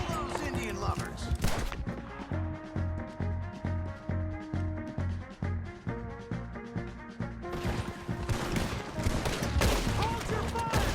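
Rapid gunfire fills a Red Dead Redemption 2 shootout, with dense overlapping shots and bursts over tense game music, and voices talking in between the volleys.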